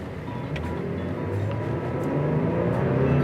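A Ford Police Explorer accelerates hard from a standstill, its engine roaring steadily louder and climbing in pitch over several seconds, close and continuous with no talk.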